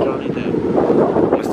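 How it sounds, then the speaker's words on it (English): Gusty wind buffets the microphone in loud rumbling bursts, with a voice speaking underneath. "Damn, it's windy."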